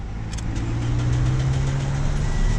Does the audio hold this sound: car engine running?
yes